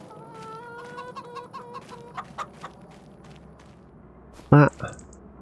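Chickens cluck and squawk inside a coop in the video game Farming Simulator, with a run of steady clucks and a loud, sharp squawk near the end.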